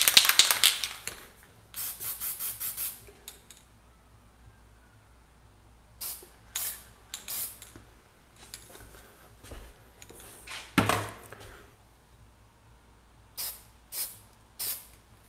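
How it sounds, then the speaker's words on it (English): An aerosol spray paint can hisses in short bursts as it is swept over a surface for sunburst effects in spray paint art, each spray a sharp airy rush separated by quiet pauses, close to the microphone. "I'm really just gonna run this spray can, spraying it about here"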